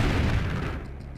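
Gunfire and explosions from an attack on a barracks in the Command & Conquer Red Alert video game, a dense, loud rumbling barrage that eases slightly toward the end.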